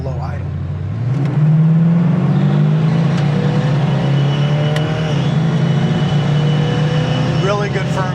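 A 1972 Pontiac Firebird Formula 400 engine pulls while driving after a downshift to low, a loud, close, steady low drone that climbs in pitch and stays strong throughout.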